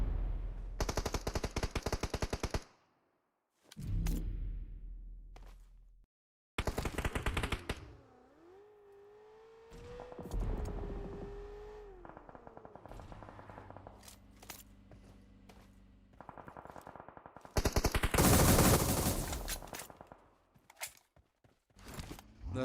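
Machine gun fire in PUBG Mobile during an esports grand final: several loud, dense bursts of automatic gunfire separated by gaps, with scraping and game effects in between, and a louder burst near the end.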